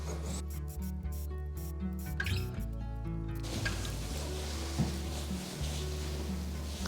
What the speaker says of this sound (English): I'm going to serge the bottom of this raw edge here